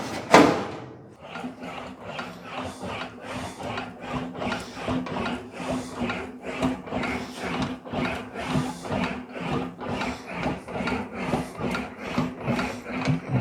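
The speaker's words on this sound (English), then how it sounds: "You probably hear tracking marks as I'm cleaning them up." Sheet metal for a custom truck box panel on a 1940 Ford–inspired build is smoothed on an English wheel with a flat anvil, producing a continuous rhythmic rolling rasp and low hum, close and steady, without speech.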